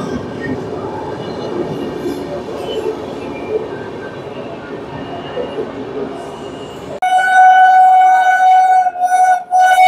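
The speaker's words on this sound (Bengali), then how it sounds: "ট্রেন ঢুকছে স্টেশনে 2 নম্বর প্ল্যাটফর্মে।" A local train on the Sealdah–Bolpur line rolls into platform 2 with a rumbling, rattling approach, then sharp, loud wheel squeals ring out near the end as it brakes.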